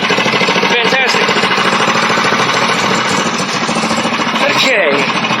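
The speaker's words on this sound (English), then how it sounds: "Turn this on. I had it running a minute ago." Coleman KT196 go-kart engine running loudly up close: a harsh, rapid, steady chugging roar that holds throughout.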